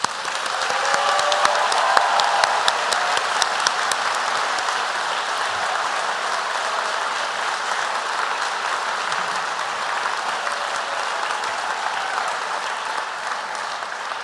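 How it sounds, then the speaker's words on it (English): Sustained, dense applause with some cheering fills a commencement hall for a graduating Executive MBA class, loud and steady throughout without talk. "Please join us as we cheer the Executive MBA class of 2022, as well as the classes of 21 and 20."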